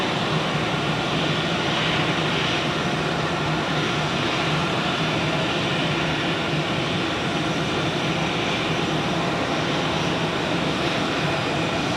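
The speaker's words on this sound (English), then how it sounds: "We have an Edelweiss A380 coming in." An Edelweiss A380 airliner lands at Zurich Airport, its jet engines a broad, steady roar that stays loud and constant throughout with no voices.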